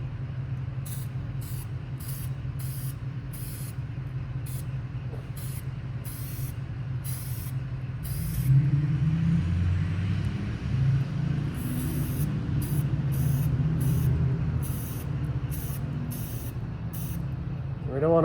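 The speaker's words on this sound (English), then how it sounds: "we're going to apply a nice even coat of the oil on there" K&N filter oil sprayed onto an air filter in a series of short, sharp hissing bursts over a low background rumble, with occasional faint talk.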